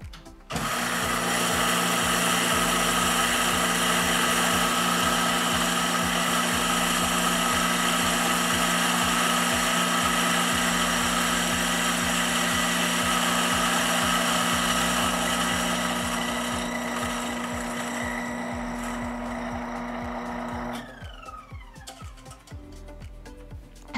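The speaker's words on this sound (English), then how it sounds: "Once you turn it on, you'll see that it can grind 140 grams of coffee in just under 20 seconds." A HeyCafe HC 880 coffee grinder grinds about 140 grams of coffee beans, a loud, steady whirring drone lasting roughly twenty seconds before winding down and stopping.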